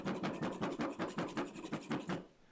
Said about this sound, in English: So every time I would saw, it would wobble a bit. And that was creating a lot of rumbling noise.